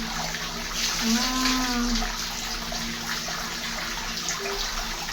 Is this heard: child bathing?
yes